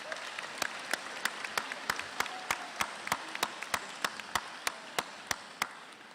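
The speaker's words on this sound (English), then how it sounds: "You can give them an applause." Convocation audience at the University at Albany applauding, a dense wash of clapping with a few sharp, evenly spaced loud claps cutting through, steady and fairly distant.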